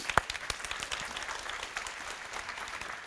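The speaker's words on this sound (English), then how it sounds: "A round of applause for Mina again." A presentation audience claps for a volunteer named Mina, a fairly soft, spread-out patter of applause with one sharp nearby clap at the start, then fading slightly.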